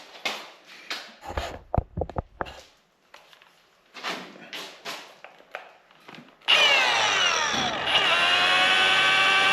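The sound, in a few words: power sander color sanding rear quarter panel of 1969 VW Beetle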